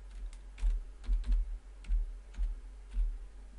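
Typing on a computer keyboard to enter a folder name in Pro/Engineer Wildfire 5.0 software, a quick run of close, crisp keystrokes in small irregular bursts over a faint steady hum, with no voices.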